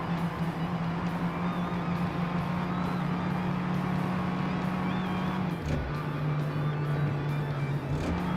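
A car engine in a racing video game, heard through the cockpit camera as a steady, loud drone that drops in pitch briefly near the end and then holds, with no talk.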